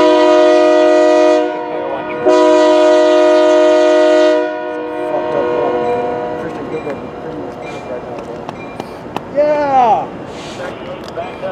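A freight train hauling auto racks with an ex-Union Pacific MAC locomotive sounds its horn in two long, loud blasts, followed by rumbling rail noise and squealing wheels while people talk nearby.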